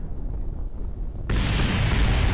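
A sudden loud explosion from the Kerbal Space Program video game erupts after a quiet low rumble, then sustains as a dense roaring blast.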